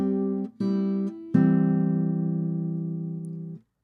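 Classical guitar plays one measure of a Julio Sagreras exercise as three plucked notes of equal length, close and clear, with the last note held and ringing before stopping.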